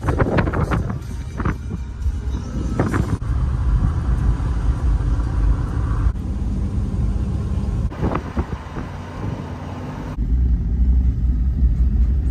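A Toyota 4Runner driving down a Vermont forest road in first gear: steady low engine rumble with wind noise and occasional bumps and rattles, continuous throughout.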